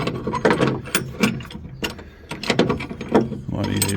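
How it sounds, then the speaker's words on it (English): Metal clamps are loosened and pulled off a Jeep YJ rock slider, giving a series of close, sharp ratcheting clicks and clunks in quick irregular bursts. "I can take the clamps off now"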